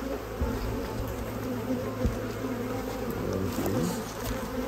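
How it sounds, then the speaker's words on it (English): Honey bees swarm around a beekeeper during a queen-mating operation, their dense, steady buzzing close and continuous with no voices. "Have so many bees on you."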